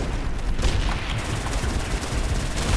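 Gunfire crackles and booms in the World War II shooter Call of Duty: World at War, a loud ongoing battle mix of rifle shots and rumbling blasts.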